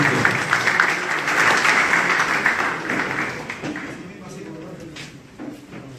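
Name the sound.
audience applause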